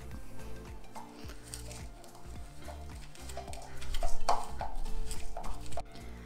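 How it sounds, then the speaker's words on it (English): Cinnamon, brown sugar, oats and butter stirred together into a cobbler topping, giving a run of repeated clicking scrapes and taps of utensil against bowl at close range, growing busier and louder toward the end. "And now I'm going to mix that all up."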